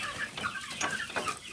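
Chickens cluck on a small poultry farm, several close, overlapping clucks in an uneven rhythm over a soft background hum, with no talking.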